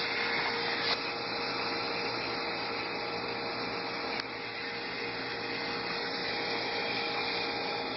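An air compressor tank empties through its drain valve in a loud, continuous rushing roar that holds steady for several seconds, close by and without talk.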